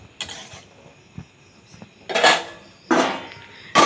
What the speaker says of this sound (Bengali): আর নাড়িয়ে নেবেন, একদম ভালো করে নাড়িয়ে দেবেন